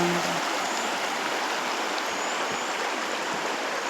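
The Salkhi river flows in a constant broadband rush, close and fairly loud, holding steady for several seconds with no speech.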